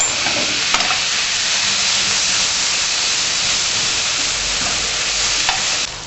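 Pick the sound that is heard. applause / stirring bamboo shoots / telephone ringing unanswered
stirring bamboo shoots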